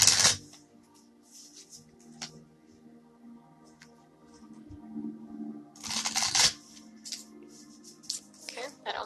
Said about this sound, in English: I gotta move over to shuffle my cards on the floor.